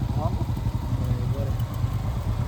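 A Royal Enfield Bullet motorcycle engine with a broken lever cable idles with a steady low thumping rumble, close by, while people talk over it.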